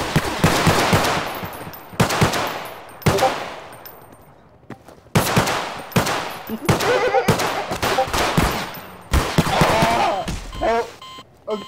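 Loud bursts of rapid automatic gunfire in the Garry's Mod video game, several separate volleys with short gaps between them, close and harsh, with a voice talking between the bursts.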